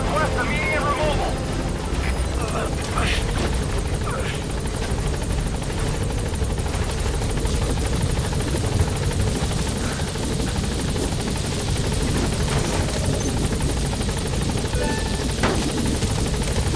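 Helicopter Pequod landing in the video game Metal Gear Solid V, a loud continuous rotor thrum and turbine whine with in-game radio voices speaking over it.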